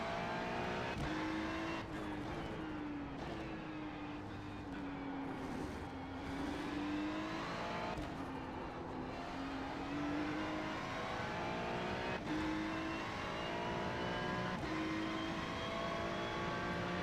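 A pack of P2 prototype race cars in iRacing sweeps past at the Nürburgring GP circuit. Several engine notes rise and fall in sequence as each car goes by, with a steady engine drone underneath.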